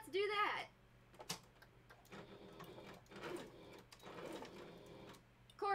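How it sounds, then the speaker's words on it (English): A sewing machine stitches fabric for fursuit handpaws, short bursts of close mechanical ticking and whirring separated by pauses, with brief talk at the start and end. "I think it'll just be faster if we machine sew it"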